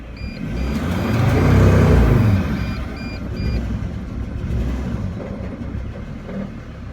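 Mercedes Sprinter van diesel engine with a faulty turbo actuator, running at close range with a steady rumble that swells and settles, while short electronic beeps chirp over it.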